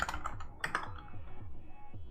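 A computer keyboard is tapped rapidly while commands are entered in a terminal, a short close burst of crisp key clicks fading into quieter keystrokes.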